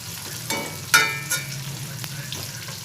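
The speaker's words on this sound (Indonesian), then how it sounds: "ini dia cabainya sedang kita goreng dengan bawang merah, bawang putih." Chili peppers fry in oil with shallots and garlic for Indonesian sambal, giving a steady close sizzle with a few sharp spatters and stirring scrapes.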